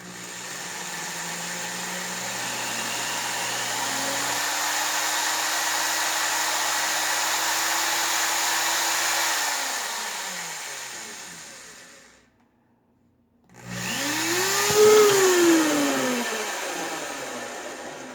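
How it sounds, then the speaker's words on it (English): A power drill drilling drainage holes in a plastic bucket, a loud sustained whine that drops out briefly, then restarts with a rising pitch as the bit bites in again. "You want to make sure you hold on to your drill good"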